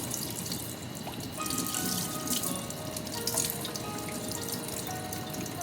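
Tap water runs steadily into a kitchen sink as rice and lentils are rinsed, a continuous close splashing stream with faint drips and clinks throughout.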